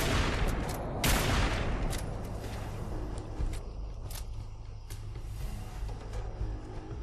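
Rapid gunfire from a Fallout 4 firefight, crackling in dense volleys with sharp individual shots over a steady rumbling background, fairly far and moderately loud throughout.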